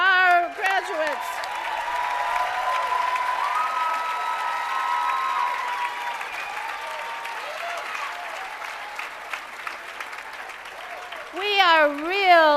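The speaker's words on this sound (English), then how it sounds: "I hope you heard the thunderous applause" Thunderous applause from a crowd at a 2011 journalism school commencement, honoring graduates; steady loud clapping with a few whoops, and a voice speaking at the start and end.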